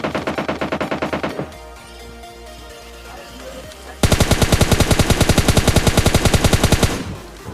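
Automatic gunfire in the PUBG Lite battle royale game, loud close bursts of rapid shots with a quieter gap in between, then a sustained, even stream of fire lasting several seconds.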